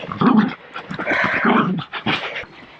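A hunting dog pants heavily and lets out low growls and whimpers up close during a bushpig hunt, with no speech.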